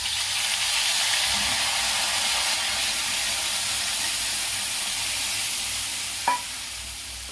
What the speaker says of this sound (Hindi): सरसों चटक चुका है, अब इसमें धीरे धीरे पेस्ट डालूंगी।